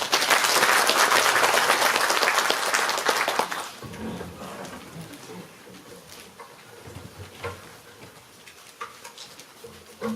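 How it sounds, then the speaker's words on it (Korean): Audience applause at a candidates' debate on agricultural policy for a city mayoral race, hosted by a farmers' and livestock association: dense, loud clapping for about four seconds, then fading to scattered claps and murmuring room noise. "큰 박수 부탁드리겠습니다"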